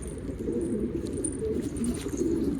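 Pigeon cooing, from a young bird kept in a Turkish pigeon loft, comes as a low continuous rumbling murmur that fills the whole stretch at close range, with no talking.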